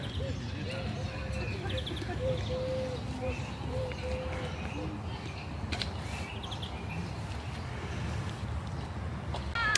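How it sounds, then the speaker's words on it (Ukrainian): Birds chirp and coo in a summer outdoor setting, scattered calls at moderate distance over a constant background wash, with someone talking throughout. "пташки співають"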